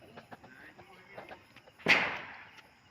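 A single Diwali firecracker bursts with a sharp loud crack that decays into a brief rumbling tail, preceded by faint scattered background sounds and distant pops during a home Lakshmi puja celebration.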